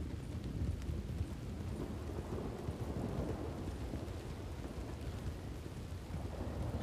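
A thunderstorm with steady rain, used as sleep background sound, plays as an even, low rumbling wash of rainfall with distant thunder underneath, quiet and continuous with no talking.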